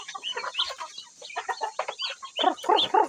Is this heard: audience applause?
no